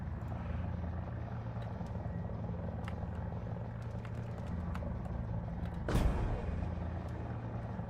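A helicopter in a War Thunder air simulator battle drones with a steady, low rotor and engine hum, with a short, loud rushing burst partway through and no voices.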